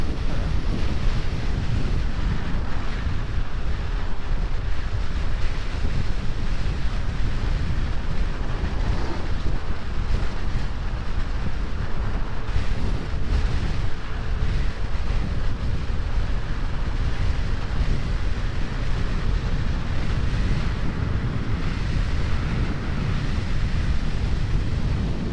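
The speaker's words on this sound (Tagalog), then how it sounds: "Grabe, lakas ng hangin oh." A constant heavy wind roar batters the microphone throughout a ride in Bicol near Mount Mayon, loud and unbroken with no voices.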